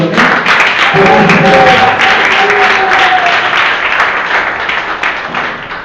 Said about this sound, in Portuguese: a igreja aplaude bem forte ao Senhor